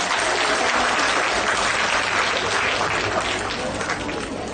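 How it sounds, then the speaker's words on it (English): An audience at a panel discussion gives a loud, dense round of applause to welcome former Chief Minister Tarun Gogoi and Dolly Gogoi, steady throughout and easing slightly at the end. "please welcome our beloved ex-CM, Honorable Shri Tarun Gogoi sir and Madam Dolly Gogoi with a huge round of applause"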